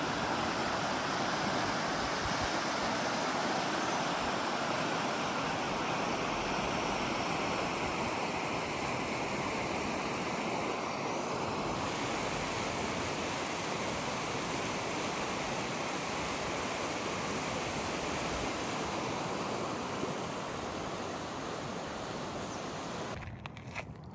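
Water rushes through a wide concrete channel under a bridge on the Arroyo Simi, a loud, steady broadband roar with no speech over it.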